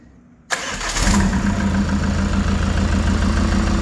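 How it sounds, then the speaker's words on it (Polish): Ford Mondeo MK5 2.0 bi-turbo 210 hp engine cranking and firing on its first start with no exhaust attached, a sudden loud catch that settles into a rough, throbbing idle, close and raw. "Ok, robimy pierwsze palenie bez podpiętego jeszcze wydechu."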